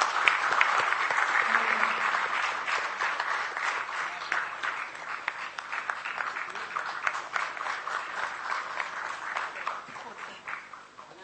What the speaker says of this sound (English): Please welcome sir with a huge round of applause.